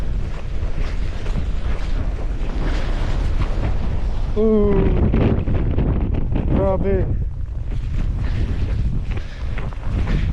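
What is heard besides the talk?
strong wind during winter storm in Canada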